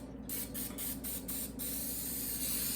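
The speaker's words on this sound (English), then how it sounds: "so it doesn't stick to this, I'm gonna spray it." Cooking spray hisses out of a can into a baking pan in a series of short, close bursts, then stops.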